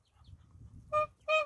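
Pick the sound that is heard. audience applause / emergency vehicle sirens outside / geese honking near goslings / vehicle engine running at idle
geese honking near goslings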